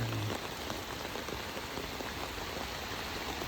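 Steady rain falls at the Phu Dan Luang Buddhist site in Ban Na Tan, Na Tan subdistrict, a dense, even patter of drops on surfaces that continues unbroken throughout with no voices.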